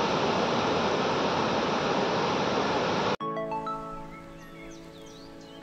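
Water from the Kalammawadi dam on the Dudhganga river pours down as a dense, roaring waterfall for about three seconds, then cuts abruptly to a quieter, different scene.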